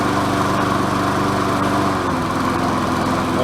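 A Murray 5 hp lawn mower engine runs steadily and close by, a continuous droning hum that holds even throughout with no pauses.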